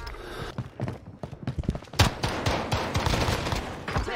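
Gunfire in Call of Duty Warzone on Rebirth Island: rapid bursts and single sharp shots crack in quick succession, dense and loud, with a heavy volley near the middle and faint voices underneath.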